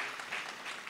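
Audience applause for the Uwachu Troupe after their performance at an evening friendraiser gathering, a steady dense patter of many hands at moderate distance, without any voices over it.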